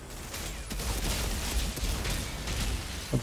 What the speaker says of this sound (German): Gleich mal in alle Richtungen explodieren werden